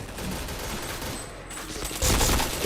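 Rapid bursts of gunfire from a shooting video game roar continuously and loudly, a dense fusillade that swells even louder near the end, with no talking.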